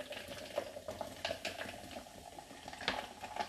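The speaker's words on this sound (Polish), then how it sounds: "Zalewamy naszą lemoniadę. Oczywiście mieszamy." Rhubarb lemonade with sparkling water and ice being stirred, a soft swirling wash with occasional light clinks of ice and spoon against the container, close and fairly quiet.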